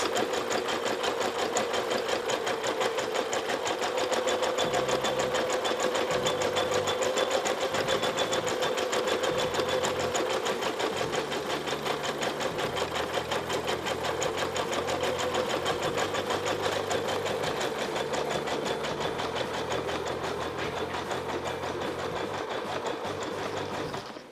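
A Janome Memory Craft 1000 embroidery machine stitches a name, its needle running in a fast, steady rhythmic whir throughout, close and continuous with no speech.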